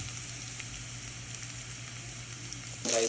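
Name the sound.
ingredients frying in a pan for fried rice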